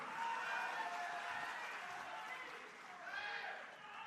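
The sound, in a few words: audience applause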